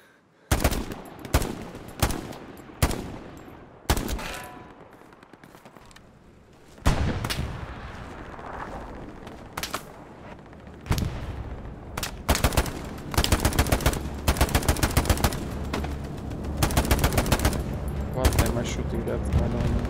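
Hell Let Loose battlefield gunfire: a series of separate sharp rifle shots, then sustained rapid machine-gun bursts layered with more shots and distant explosions, loud and continuous, with no one talking.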